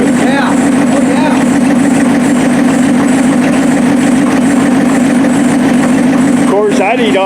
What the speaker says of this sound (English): there ain't nothing like a thrill of hearing one of those old motors pop